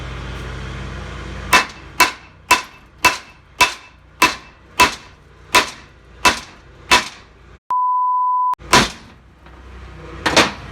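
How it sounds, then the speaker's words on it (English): A series of sharp metallic hammer strikes on transmission parts at a steady rhythm, about a dozen blows, briefly interrupted by a steady beep tone before two more hits. "I need my hammer."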